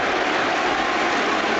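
A cricket crowd at Cardiff in 2009 lets out a tremendous cheer, a dense, sustained roar that fills the whole moment at steady loudness, with no separate voices standing out.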